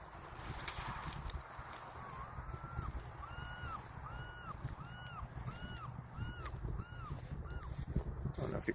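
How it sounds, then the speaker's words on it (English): Seagulls call in the background by the water outdoors, a faint, evenly spaced series of repeated cries under steady wind and ambient noise. "I don't know if you could hear the seagulls in the background,"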